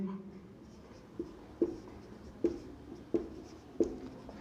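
Chalk taps and scrapes on a classroom board as a teacher writes numbers, giving five or six short, sharp strokes spaced about a second apart in a quiet room.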